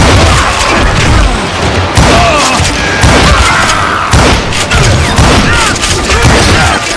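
Gunfire and booming shots from the Western shooter Call of Juarez Gunslinger, a dense, continuous barrage of loud bursts and thuds running the whole time, with voices speaking over the action.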